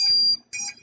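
An electronic alarm on a WhoopLifter gives two shrill, high beeps close by, each about a third of a second with a short gap between.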